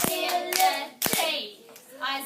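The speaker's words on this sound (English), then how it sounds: "Let's clap it." Children in a reading lesson clap out the syllables of a long word, a handful of crisp, close hand claps in an uneven beat while their voices chant each syllable along with them.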